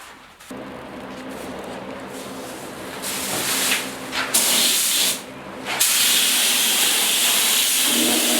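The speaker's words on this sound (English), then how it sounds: "The feather fill, it sprayed better than I thought it was going to, with no thinning" A spray gun lays feather fill primer onto a 1972 Ford 4x4 short box truck, a loud steady hiss in long bursts with brief pauses between passes.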